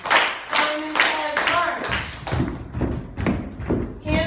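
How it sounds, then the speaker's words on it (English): Second-grade children clap their hands in a classroom during a game of Simon Says, a run of about a dozen loud, fairly regular claps close by with a few thuds mixed in. "Simon says clap your hands"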